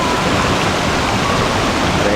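Batulantang waterfall pours in a loud, steady rush of falling water, a broad unbroken roar close at hand.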